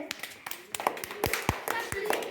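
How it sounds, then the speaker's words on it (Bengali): Children in a classroom clap their hands in a quick, uneven round of claps, fairly close, while a voice talks over them. "ওই সবার জন্য একটা হাততালি"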